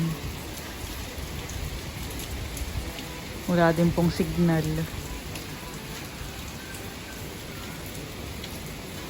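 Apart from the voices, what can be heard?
typhoon rain pouring during storm Uwan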